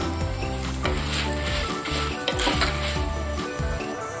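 Dry red chillies and cumin fry in a pan for a curry-leaf spice powder, a steady close sizzle with crackling pops and occasional scrapes of a stirring spoon against the metal, no voices heard.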